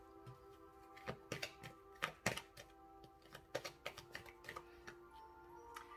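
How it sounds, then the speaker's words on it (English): Tarot cards being shuffled close by: irregular crisp clicks and soft riffling snaps, quiet, with no talking. "Let's shuffle some more cards."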